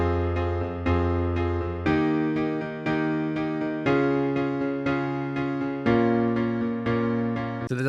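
A series of sustained synthesized diatonic chords played back by music software, each struck and held for about a second before the next, clean and evenly paced with no talking.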